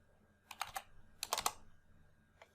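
Typing a number into a spreadsheet cell on a computer keyboard: two quick clusters of three or four close, crisp keystrokes, then a single faint tap, in a quiet room.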